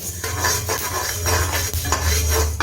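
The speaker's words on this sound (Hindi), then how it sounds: "इसी तरह लगातार चलाते हुए हम मूंग को भूनेंगे।" A spoon scrapes and clinks against a pan as moong dal is stirred and roasted. The stirring strokes repeat steadily at close range, with a faint sizzle underneath.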